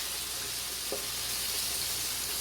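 Country fried steak fries in a pan with a steady, dense sizzle that fills the clip, broken by one faint brief knock.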